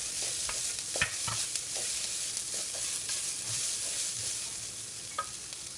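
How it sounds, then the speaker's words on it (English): Green chili and garlic sizzle in hot oil while being tossed in a pan for a Sri Lankan brinjal pickle. A steady bright frying hiss runs underneath, with scattered scraping and tapping of the stirring utensil against the pan. "I'm going to put in my green chili and garlic. Give everything a toss."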